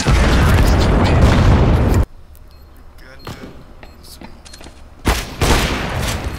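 Gunfire erupts in a shooter video game, loud dense bursts of shots that break off, give way to scattered quieter sounds and voices, then return in heavy volleys.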